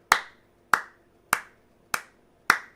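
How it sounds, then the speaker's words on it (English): Five slow, evenly spaced single claps from one person seated close by, each a sharp crisp slap with a short decay, offered in honor of a woman named Shorty with no crowd joining in. "Who can applaud Shorty with me?"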